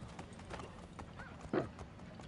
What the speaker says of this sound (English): These are nice horses.